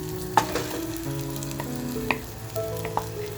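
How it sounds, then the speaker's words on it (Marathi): Marinated mutton mince hits a hot pan for tandoori keema and sizzles steadily up close, with a few sharp clinks of a utensil against the pan. "जो मॅरिनेट केलेला खिमा आहे तो आता मी ह्याच्यामध्ये टाकून घेते"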